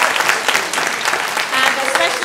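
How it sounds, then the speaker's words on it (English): Audience applause for a jazz band at a school awards-style show, steady dense clapping filling the room throughout, with some voices mixed in. "Can we just give the round of applause to the jazz band?"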